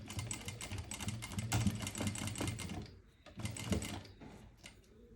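A sewing machine top-stitches a fabric neck strip in a rapid, steady mechanical run, pausing briefly before a second shorter burst of stitching, fairly close and heard alone.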